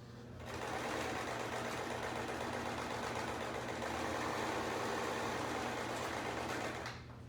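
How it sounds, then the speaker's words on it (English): A sewing machine stitches a seam steadily for several seconds, a fast, even mechanical whir that starts and stops cleanly, with no talking. "We're going to run it through the sewing machine one more time."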